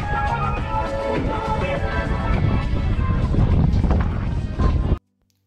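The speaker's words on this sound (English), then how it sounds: "You can hear the wind. It was super gusty today." Strong gusty wind buffets the microphone outdoors at night in Paris near the Eiffel Tower, a loud, continuous broadband roar with rumbling low-end blasts, cutting off abruptly near the end.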